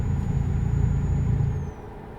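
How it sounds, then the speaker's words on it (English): Truck handbrake in a trucking video game set in West Africa, a steady loud low engine rumble with a faint high whine that fades as the rumble drops off near the end. "This is my handbrake right here."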